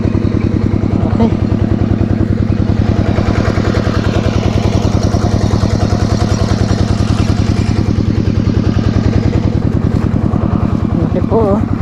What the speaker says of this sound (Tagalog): May makina pa doon sa tabi natin.